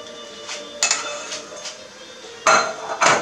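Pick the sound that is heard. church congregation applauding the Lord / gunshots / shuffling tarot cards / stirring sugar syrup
stirring sugar syrup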